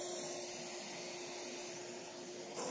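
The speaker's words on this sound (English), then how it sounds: "I just vacuum them up real quick." A vacuum sucks up European hornets from a broken-apart nest comb with a steady, faint whirring hiss and a continuous airflow drone, heard alone with no talk.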